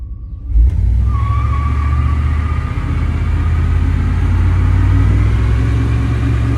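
A 1991 Chevy Silverado truck revs hard and roasts its tires in one continuous, loud, close roar, with the engine drone and tire squeal holding steady and no talk over it.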